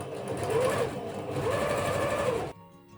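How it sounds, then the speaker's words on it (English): A sewing machine runs a top stitch along the edge of a fabric book cover, whirring in two close, steady bursts before stopping abruptly. "I recommend doing a top stitch on this edge only"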